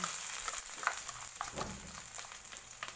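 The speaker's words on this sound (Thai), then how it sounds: "ใส่เครื่องแกงไปผัดจ้า" Thai curry paste sizzles as it is stir-fried in a wok for a shrimp dish, a steady close frying hiss with scattered scraping ticks throughout.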